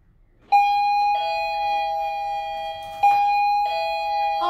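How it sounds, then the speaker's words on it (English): An indoor doorbell rings twice in a home, each press giving a clear, loud two-tone ding-dong chime that rings out alone against a quiet room. "when somebody rings the doorbell,"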